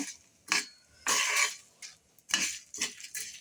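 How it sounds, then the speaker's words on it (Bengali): Mixed spices stirred and dry-roasted in a metal pan, giving several separate bursts of scraping and clinking from a utensil against the pan, close and fairly loud with short pauses between strokes. "পাঁচমিশালি মশলা করে নেব, ভালো করে ভেজে নিচ্ছি।"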